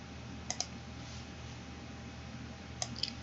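Two pairs of quick, faint computer mouse clicks separated by a pause, over a quiet hum; no talking.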